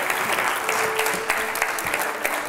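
A panel audience at the Edinburgh TV Festival claps continuously as panelists come on stage, a thick, even wash of many hands at steady loudness with a few sharper claps standing out.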